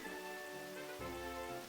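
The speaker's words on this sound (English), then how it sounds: "Your rain is going crazy." Rain from a video game storm patters steadily in a constant hiss with a shifting tonal hum beneath, heard briefly and fairly faint.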